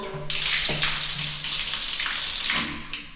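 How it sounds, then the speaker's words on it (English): Strong shower water gushes steadily in an apartment rental bathroom in Angeles City, Philippines, a loud close hiss of spray running for about three seconds with a faint hum beneath. "Let's check the water pressure of the shower."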